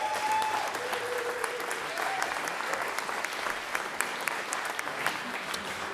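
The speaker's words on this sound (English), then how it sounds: "How about our first round of applause for those fabulous people?" A festival audience gives sustained applause for the organisers at an opening ceremony, a dense even clapping with occasional sharper claps, and a few voices or whistles faintly above it early on.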